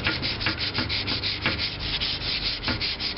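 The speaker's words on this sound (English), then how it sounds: "with this flat sander, it sands flat around through there" A hand-held flat sander works back and forth over bare metal, a close, rhythmic rasping with regular strokes about every third of a second.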